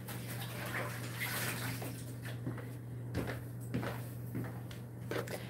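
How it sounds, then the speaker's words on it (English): Running water splashes steadily over hands being rinsed at a kitchen sink while preparing steak, with a constant hum underneath and a few sharp clinks and knocks. "Let me rinse my hands off."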